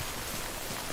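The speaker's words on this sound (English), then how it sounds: "あ、これ雨降ってんの？" Steady timefall rain from the video game Death Stranding, a dense even hiss of falling drops across the whole second with no voices.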